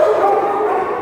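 A young puppy barks at an animal shelter, a dense, continuous run of yips and barks close by that fills the entire short stretch, mixed with kennel noise.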